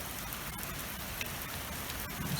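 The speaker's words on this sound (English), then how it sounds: "it is chucking it down with rain" Heavy rain pours down steadily on a farm, a dense, continuous hiss and patter of drops on surfaces with no pauses throughout.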